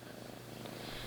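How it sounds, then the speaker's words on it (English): A cat purrs softly and steadily right up close, a low continuous rumble with no other sounds. "I'm sure you can hear her purring."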